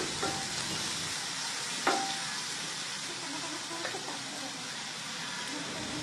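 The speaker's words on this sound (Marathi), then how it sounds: "तो टोमॅटो याच्यामध्ये टाकायचा आणि मिक्स करायचं जोपर्यंत टोमॅटो आपले सॉफ्ट होत नाही तोपर्यंत" Chopped tomato stirred into frying onions in a pan, a gentle continuous sizzle with a few light scraping spoon strokes, one sharper clink near the middle, close and quiet with no talk.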